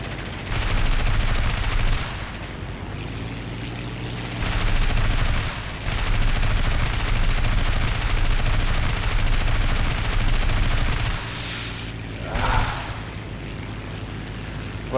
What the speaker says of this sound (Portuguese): Mais um tirinho nele.